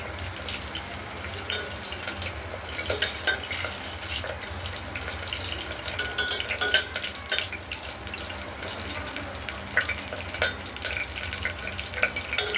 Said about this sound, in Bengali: জিরাটা একটু ভাজা ভাজা হলো